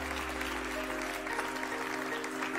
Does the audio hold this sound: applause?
yes